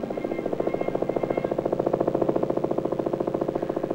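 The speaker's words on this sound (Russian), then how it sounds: "А вибрацию создает вот такой моторчик." A small vibration motor runs steadily with a fast, even pulsing buzz and rattle, constant in level throughout with no voices.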